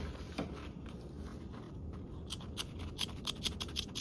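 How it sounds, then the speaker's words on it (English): Scissors snipping through sewn fabric to open a zipper pocket on a small mini bag, quiet close-up cuts that grow into a quick run of crisp snips toward the end. "use a seam ripper or scissors to cut down the middle to open up your zipper pocket"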